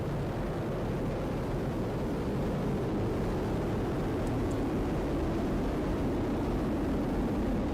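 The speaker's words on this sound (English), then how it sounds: "All 27 Merlin engines look great. Rocket beginning to roll." A SpaceX Falcon Heavy rocket with 27 Merlin engines lifts off in a steady, broad roar, a dense low rumble that holds at a constant level throughout with no voices.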